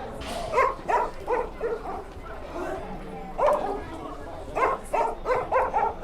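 A dog barks repeatedly in short bursts near the stands at a Volyn Cup amateur football match, the yaps coming in clusters over crowd murmur and background voices.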